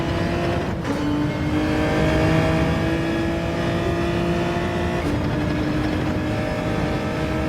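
Race car engine in the racing video game Gran Turismo 7, heading into a chicane late in a race: a loud, steady, high-pitched engine drone with brief shifts in pitch around gear changes, continuous and with no talk.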